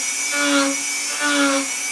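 A Dremel rotary tool, well worn from drywall work, whines in two short high-pitched bursts close up with no voices.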